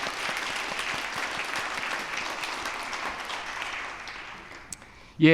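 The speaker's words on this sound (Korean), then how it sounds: "우리 크게 박수로 격려하겠습니다." A church congregation applauds during a Sunday afternoon ministry dedication service, a steady wash of many hands clapping that holds evenly, then thins and fades near the end before a brief louder sound cuts in.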